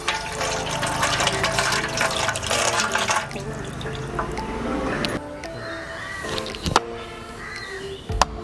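Tender coconut water pouring out into a container, a steady liquid splash and trickle that fades partway, followed by a few faint clinks and taps.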